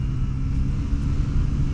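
A Bajaj Pulsar N160 motorcycle gives off a loud, close, rumbling low engine roar that holds steady throughout as it accelerates.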